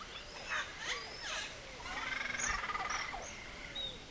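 A colony of caciques in Colombia sings, a mix of sliding whistles, liquid gurgles and rapid rattling notes overlapping from several birds at moderate distance.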